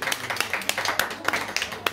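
An audience applauds its hosts at a literary afternoon event, a dense run of fairly close handclaps with uneven rhythm and sharper individual claps standing out, brief and sustained throughout.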